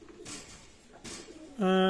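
Pakistani high flying teddy pigeons coo close by in a loft, soft low calls rising to a loud steady coo at the end, with faint background noise between.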